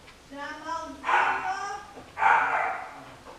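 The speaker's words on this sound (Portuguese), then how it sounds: "Cachorros." Dogs bark in two loud bursts after a short whining yip, close and clear, with nobody talking.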